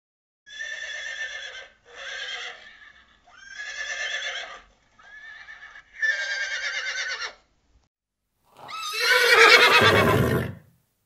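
A horse lets out a string of five drawn-out, moaning whinnies, close and fairly loud, followed after a short pause by a louder, rougher neigh that trails off.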